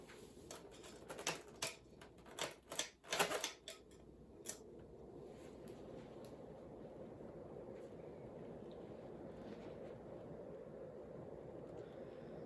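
A Hunter Comfort Breeze 36-inch ceiling fan tested on the floor at high speed: a few sharp clicks and ticks, then a steady, even whooshing rush of air and motor noise that continues without a break.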